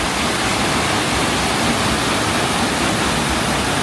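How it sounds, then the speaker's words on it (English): Loud, continuous rushing and splashing water from a water wheel at a paper museum, steady and close, with no voices. "Comes with a water wheel."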